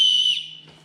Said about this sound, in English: On the chest strap, you have a whistle.